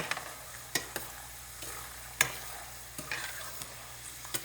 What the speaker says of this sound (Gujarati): વચ્ચે મિક્સ કરતા રહેવાનું આવી રીતનું, એટલે બધી બાજુથી મસ્ત શેકાય ને હરખી.